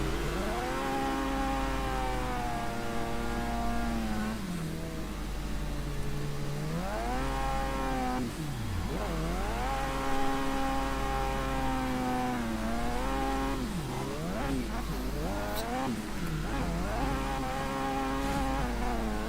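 Racing car engines from the video game Street Breed whine and rev continuously, pitch sweeping up and down through gear changes, a steady buzzing drone heard alone at moderate level.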